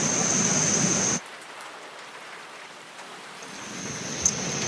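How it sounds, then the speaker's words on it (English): Steady rain hiss that cuts out abruptly, leaving a quieter patter for a few seconds before the wash of rain slowly returns. "I was surprised it is raining"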